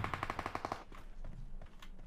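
A rapid burst of automatic gunfire in the video game PUBG Mobile, about eight quick, evenly spaced shots in under a second, followed by fainter scattered game noises.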